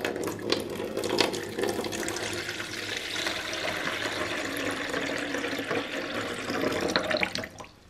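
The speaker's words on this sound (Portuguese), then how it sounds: "eu coloquei tipo meio litro de água" Water pours steadily from a faucet into a toy 1987 Barbie Living Pretty bathtub playset, a continuous close splashing rush that holds for about seven seconds and then tapers off.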